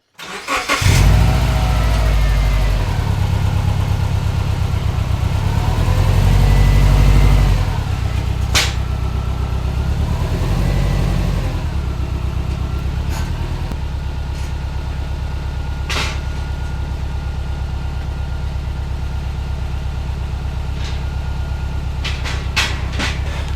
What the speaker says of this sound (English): Time for a little test drive, see how it goes.